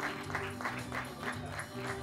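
A crowd at an outdoor trophy ceremony for the Pinar Extremo 2024 challenge claps and cheers in rhythmic waves, loud and continuous over a murmur of background sound.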